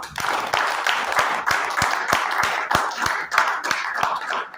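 An audience at a wellness-centre training session in Pithora claps in honour of its leaders, with sharp, regular beats falling roughly twice a second in near-unison, loud and close over a low murmur.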